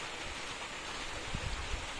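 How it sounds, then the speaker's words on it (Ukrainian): Steady rain falling outdoors near a home, a soft continuous hiss of drops on surfaces with a few faint low thumps, fairly quiet and with no voices. "Дощик."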